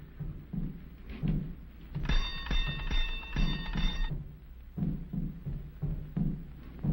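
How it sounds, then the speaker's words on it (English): An electronic doorbell chime rings for about two seconds, bright and tonal, between stretches of low muffled rumble and movement. "You ring the bell."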